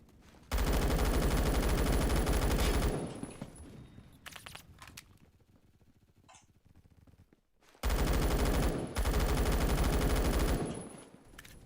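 Automatic gunfire in the video game Phantom Forces comes in two long, loud, rapid-fire bursts of several seconds each, separated by a quieter lull with faint scattered sounds.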